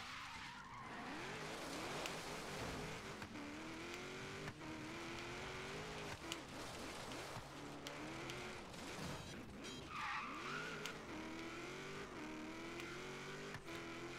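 A car skids and wrecks in the Forza Horizon 3 racing game, with loud continuous engine roar, rising and falling revs and screeching tire squeal through the whole stretch, no talk.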